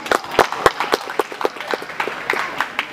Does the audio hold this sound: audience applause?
yes